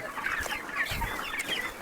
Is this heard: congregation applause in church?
no